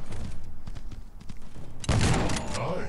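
A shotgun fires in the Guns of Boom shooter game, a few sharp reports followed by one loud, heavy blast with a booming tail near the end.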